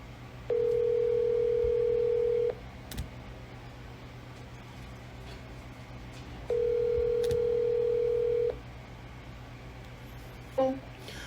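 Telephone dial tone after a caller hangs up on a teleconference line: two steady two-second tones separated by a pause, heard alone over a faint background hiss, with a short click near the end.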